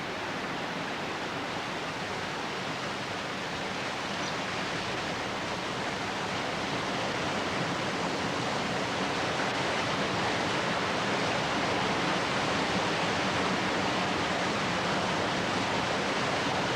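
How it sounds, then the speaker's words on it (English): Clear spring water pours straight out of a rock in the wet-season Australian bush, a steady, full rushing and splashing flow heard up close and alone, unchanging throughout. "This water is coming straight out of that rock there."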